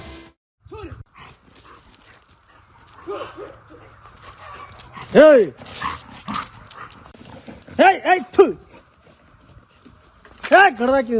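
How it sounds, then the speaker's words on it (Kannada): Street dogs bark and yelp in sharp bursts amid scuffling as a pack attacks a fox, with people shouting nearby and an animal whining during the fight. "ಬೀದಿ ನಾಯಿಗಳ ಗುಂಪು ದಾಳಿಗೆ ಗಾಬರಿಗೊಂಡ ನರಿಯು ಜೀವ ಉಳಿಸಿಕೊಳ್ಳಲು ಹರಸಾಹಸ ಪಟ್ಟಿದೆ"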